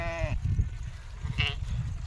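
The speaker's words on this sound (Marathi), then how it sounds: "चार वाजले मेंढ्या सोडायला" Sheep bleat close by, one long wavering bleat at the start and a shorter one near the end, over a low rumbling background.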